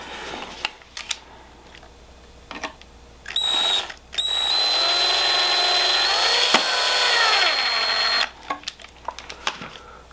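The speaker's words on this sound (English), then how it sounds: "I'm gonna screw it back on here." A cordless drill drives screws to fasten a 3D-printed support piece onto a dollhouse. It gives a short whine, then a longer rising whir that slows and stops, surrounded by light clicks and tapping, with no talking.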